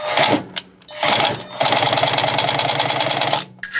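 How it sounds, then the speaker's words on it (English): An impact wrench on low power working a water pump bolt on a John Deere 625i, giving short loud rattling bursts followed by a sustained hammering chatter, close up and with no talk. "I got my impact, and I'm going to try and take it off on low power"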